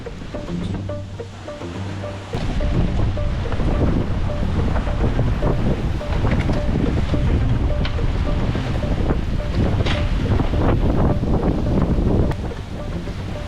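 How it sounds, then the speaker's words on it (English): Big ocean waves and gale-force wind of 40-plus knots around a sailboat in 20-foot seas, a loud continuous roar of wind buffeting the microphone and surging water, swelling after a quieter opening. "Big waves behind me now, right?"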